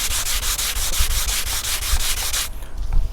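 Wet block sanding of primer on car bodywork after repair, with rapid rhythmic back-and-forth rasping strokes, about a dozen in quick succession, close and loud, ending abruptly.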